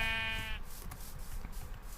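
A single Minecraft sheep bleat sounds briefly at the start, clear and nasal, then fades into quiet game ambience.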